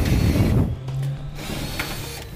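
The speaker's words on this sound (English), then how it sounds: "Drill our pilot hole first." A drill whirs briefly into a 2014 Ford F-250 pickup's steel frame rail, boring a pilot hole, its pitch steady and then dropping, with a few mechanical clicks, close and moderately loud.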